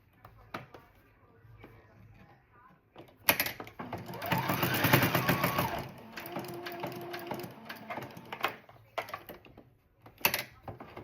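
Sewing machine stitching across the corner of a rag quilt to reinforce it, a steady mechanical whir of a few seconds framed by fabric handling and clicks, close and moderately loud.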